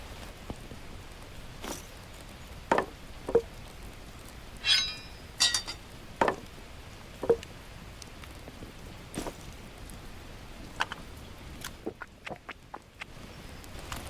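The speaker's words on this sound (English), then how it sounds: "Oh, it's raining." Rain falling in the open-world survival game The Last Plague: Blight, a steady soft patter with scattered sharper drips and taps over several seconds, no talking.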